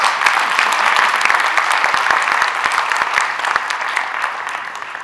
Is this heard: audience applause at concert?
yes